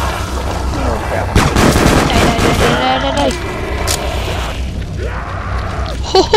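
Gunfire and booming blasts from the video game Black Ops Zombies, loud rapid shots and thuds packed together in a busy burst, with speech-like game sounds mixed in.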